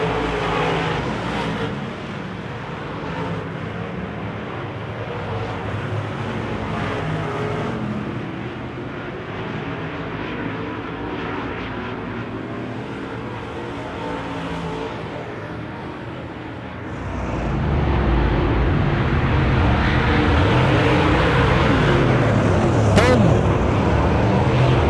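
Wissota modified race cars circle a dirt track, a continuous layered engine roar that swells louder partway through as the pack comes closer.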